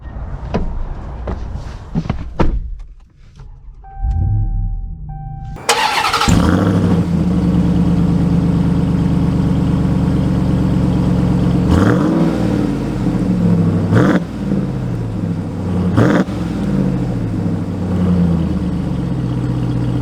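A 2022 Ram TRX pickup truck's engine cranks and fires, then settles into a loud, deep idle punctuated by three sharp revs, heard up close after a few seconds of quiet handling noises and without talk.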